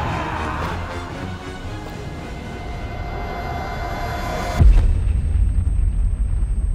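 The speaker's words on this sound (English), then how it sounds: "Oh, explosion out of nowhere." A low rumbling din suddenly erupts into a deep, booming explosion in the video game Dust: An Elysian Tail, followed by heavy lingering rumble.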